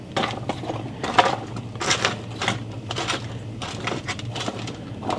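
Seasoned onions being stirred in a pan, scraping and clattering against the bottom in irregular nearby bursts, with no talk.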